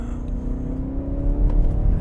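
A BMW Alpina XB7 SUV accelerates with stability control engaged, a close, steady engine hum climbing gently in pitch over a low road rumble.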